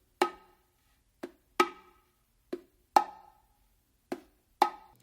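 Bongos played in the martillo style, thumb taps leading into accented open tones, give seven crisp, separate hits over a few seconds, each ringing briefly and decaying into silence.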